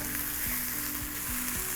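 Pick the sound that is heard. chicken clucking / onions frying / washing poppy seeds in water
onions frying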